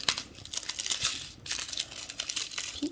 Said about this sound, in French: Je vais couper un autre paquet.